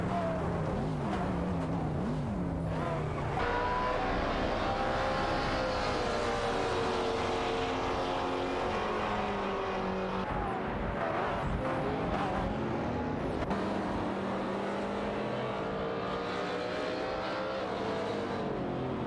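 Race cars in a video game AI race, including Chevrolet Corvettes and a BMW M6, with engines droning and revving continuously over a long stretch and pitch rising and falling as the cars accelerate and shift, with faint commentary underneath.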